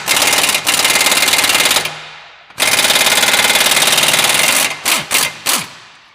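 Air impact tool driving exhaust header bolts on a 2015+ Mustang GT during a long tube header install, loud close rapid hammering in long bursts, a brief pause, then a few short blips.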